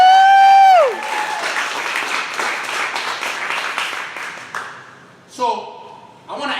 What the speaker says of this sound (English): So give a big round of applause to everybody who signed up.